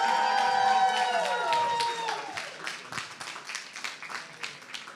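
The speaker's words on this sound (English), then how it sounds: "let's give him a round of applause" Audience applause and cheering at a Nintendo Treehouse live event for The Legend of Zelda: Tears of the Kingdom, a dense crowd wash of clapping and whoops with a fading tonal layer early, steady for several seconds.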